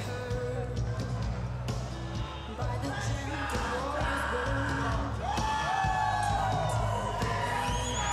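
Fight crowd at a Sprawl and Brawl MMA event cheering and whooping for fighter Thomas Johnson Jr., a loud, dense roar with scattered yells running steadily throughout.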